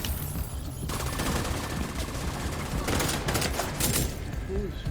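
Rapid bursts of gunfire from the video game The Division 2, loud overlapping shots and automatic fire clustering in dense volleys over a noisy game soundscape.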